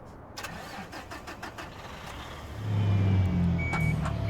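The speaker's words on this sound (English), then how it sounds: "I hate the sound of this bloody engine" An engine turns over and catches, rising to a louder, steady low rumble partway through, with a faint high tone and clicks above it.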